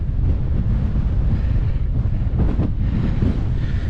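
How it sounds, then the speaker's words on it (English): Strong wind buffets the microphone on top of a hill fort, a loud, continuous roaring rumble with gusty swells and no voices. "you can probably hear the wind"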